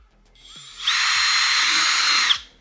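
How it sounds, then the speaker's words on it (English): A power drill whines loudly and steadily for about a second and a half, then spins down, with faint clicks around it. "I'm drilling the shit out of this"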